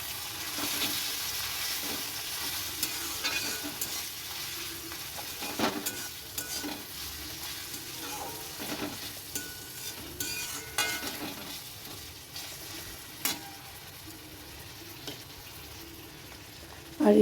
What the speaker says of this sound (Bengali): টমেটো ও কাঁচা লঙ্কা দেওয়ার পর আবার একটু মেরে নেব